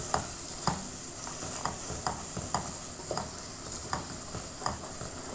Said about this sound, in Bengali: তেলের সাথে একটু ভেজে নিব ভালো করে।